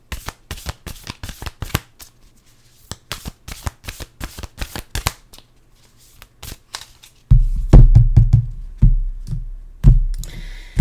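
Oracle cards are shuffled up close in quick, crisp flicks and riffles, turning into heavier, louder bursts of shuffling near the end.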